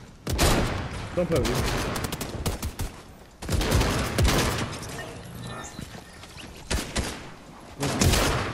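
Gunfire in a Fortnite match comes as loud, rapid bursts of shots separated by short pauses. A player's voice talks over and between the volleys.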